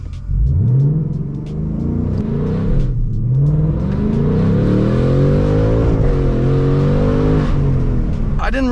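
A Ford Mustang Mach 1 launches hard in first gear, its loud engine note climbing steadily in pitch as it accelerates, then dipping briefly at a shift before rising again, close and continuous throughout.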